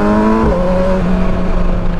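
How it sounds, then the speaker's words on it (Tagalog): A 2020 Kawasaki Versys 1000 SE motorcycle hums along while riding, its engine note steady and close with a slight pitch shift, wrapped in constant wind noise. "ito na yung ating last ride pala kay Versace, our 2020 Kawasaki Versys 1000 SE"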